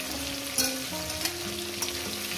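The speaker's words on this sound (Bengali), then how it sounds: "খুব সুন্দর করে মাছের মাথাগুলো আমি ভেজে নেব।" Rohu fish heads frying in hot oil in a pan, a constant close sizzle with crackling pops and occasional sharper spits, no voices.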